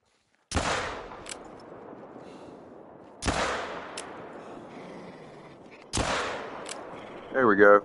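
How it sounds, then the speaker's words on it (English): Three loud hunting-rifle shots ring out in theHunter: Call of the Wild, spaced about three seconds apart, each a sharp crack trailing into a long rolling echo, with a short mechanical clatter right at the end. "I'll shoot him for you."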